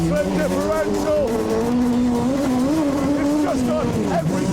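A small outdoor toy car with disc brakes and a limited slip differential races hard, its high engine note rising and falling continuously and loud, close to the listener.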